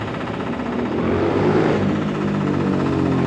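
A noisy motorbike passes along a Blackpool street beside a building demolition site with a crowd watching, its engine drone swelling loud and close through the middle before easing slightly, with no talk over it.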